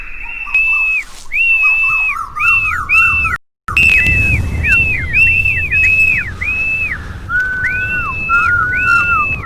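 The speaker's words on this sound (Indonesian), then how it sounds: "Ritual siulan pemanggil angin." Repeated rising-and-falling whistles to call wind for flying a kite, loud and close, come in quick phrases over a breezy outdoor rumble, with one brief gap partway through.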